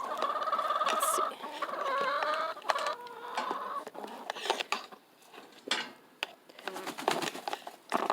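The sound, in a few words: chickens clucking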